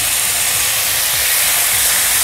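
Tomato pieces with ginger and garlic frying in a pan for rasam, a steady broad hiss and sizzle holding loud and even throughout, with no voice over it.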